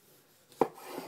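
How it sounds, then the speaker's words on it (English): A single crisp knife chop through a tomato on a cutting board, taking off its top or bottom, one sharp close thunk in an otherwise quiet kitchen. "we're going to take the top and the bottom off of it"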